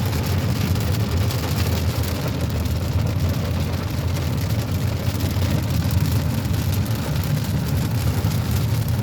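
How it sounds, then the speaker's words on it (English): Rain from a thunderstorm drums steadily on a moving car, a dense, continuous hiss layered over a low engine and road rumble, with no one talking. "I'm gonna be silent so y'all can finally hear the peace sound of rain"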